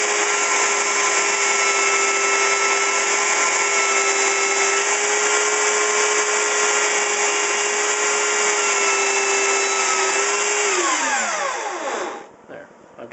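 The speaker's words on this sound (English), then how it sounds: "another handy use of our little belt sander is I can use the roundness of the belt sander to kind of clean that up." A small belt sander rounds and cleans up a wooden heel for a cigar box guitar neck, its steady whining motor droning loud and close for about eleven seconds before spinning down and stopping.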